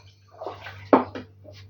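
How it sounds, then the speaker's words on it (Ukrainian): Water splashes and pours briefly into a container of sugar for pickling apples, with a sharper burst of sloshing midway and a low steady hum underneath. "Так, всипаю воду."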